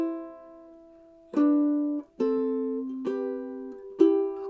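Ukulele chord melody opening a song, with several plucked chords struck one after another at a gentle pace, each ringing clearly and sustaining close and solo.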